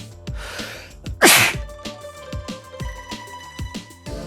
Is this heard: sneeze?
yes